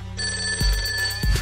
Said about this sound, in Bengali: এমন সময় বিদুলার ফোন। তোমার ফোন